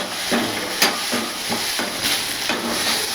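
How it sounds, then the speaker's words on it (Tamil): Whole black pepper and cumin roast in a pan on low heat, a soft continuous sizzle broken by rhythmic scraping strokes of stirring, roughly one every half second, close and fairly loud with no talking. "இது வந்து இந்த பெப்பரும் ஜீரகமும் மிளகும் வதக்கிட்டு வறுத்துட்டு அரைக்கிறோம்"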